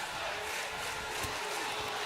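A wrestling crowd at Studio 23, Universal Studios in Orlando, in WWE2K25 roars steadily, a dense, loud wash of cheering that holds without break, with a brief swell near the middle.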